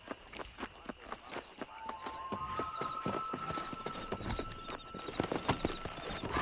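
Horse hooves clip-clop at a gallop in the Red Dead Redemption video game, a steady, fast, close rhythm of hoofbeats with a held tone and music in the background.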